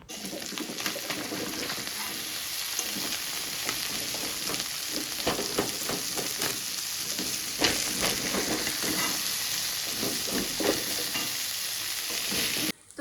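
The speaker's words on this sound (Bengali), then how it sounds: "এখন এটাকে আস্তে আস্তে করে কিছুক্ষণ টাইম নিয়ে নিয়ে ভাজবো" Sliced onions frying slowly in a wok, giving a constant soft sizzle with light stirring scrapes throughout, steady and fairly quiet with no voices.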